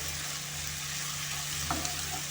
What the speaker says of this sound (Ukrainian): Тепер гарно все перемішуємо